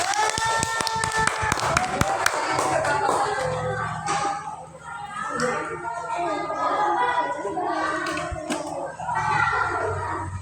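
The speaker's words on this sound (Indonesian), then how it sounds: "Yuk kita kasih aplaus dulu untuk kelompok 1" A classroom claps for group 1, a burst of many small hands at close range that fades within a couple of seconds into lively children's chatter and movement.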